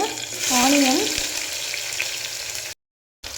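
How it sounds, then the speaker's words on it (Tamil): Sliced onions fry and sizzle in hot oil in a pan for mushroom biryani, a steady close hiss with a stirring scrape partway through, then a brief cut to silence. "ஆனியன் நல்லா கோல்டன் ப்ரௌன் கலர் வர வரைக்கும் நல்லா நம்ம அதை கிண்டிக்கிட்டே இருக்கணும்"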